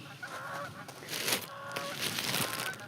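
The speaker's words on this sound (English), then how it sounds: "All of these like latecomers, Canada geese are coming in." Canada geese fly in toward a pond, several overlapping loud honks in quick irregular bursts, fairly close, with no talk.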